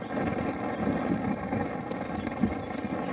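A backpacking camp stove burns with a steady, loud roaring hiss like a small jet engine, continuous and close, with no talking.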